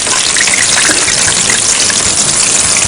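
Fried tofu going into hot vegetable broth water, with a loud, constant rushing hiss that fills the whole moment, close and without any talk.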